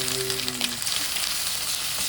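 Homemade ginger garlic paste sizzles and fries in a hot pan, a steady close hiss running throughout with no talking.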